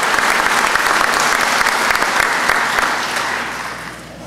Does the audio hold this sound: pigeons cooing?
no